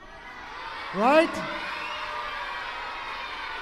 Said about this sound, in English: I hear cheering